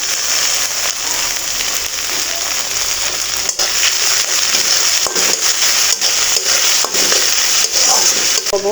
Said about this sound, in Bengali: এই যে কুচিয়ে রাখা টমেটোগুলো অ্যাড করে দিচ্ছি